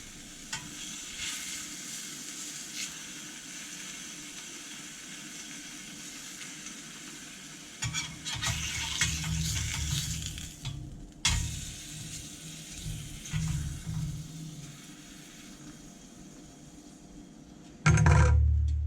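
Steady crackling sizzle of arc welding on a Classic Mini in a workshop, like frying, with a deeper buzzing hum that swells through the middle and a louder burst at the end.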